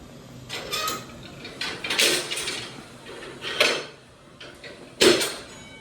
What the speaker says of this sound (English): pull the yellow lever to the centre and then push it back again